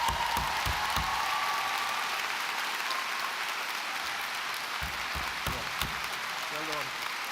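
Sustained applause from graduates at a university autumn graduation ceremony, thanking their family and friends; dense, steady clapping from a large crowd fills the whole stretch at an even level, with a voice briefly audible near the end.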